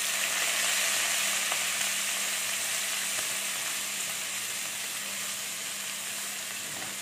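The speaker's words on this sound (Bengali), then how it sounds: "বাঁধাকপিটা আমি একটু নেড়ে নিচ্ছি।" Shredded cabbage with bay leaf frying and being stirred in a pan for milk cabbage, giving a steady, close, even sizzle throughout with a few faint scrapes and no voices.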